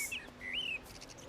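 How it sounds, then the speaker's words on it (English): Birds chirping in the video game Everybody's Gone to the Rapture: a few bright, whistled chirps rising and falling, fairly clear over a quiet background. "Oh, there's loud birds."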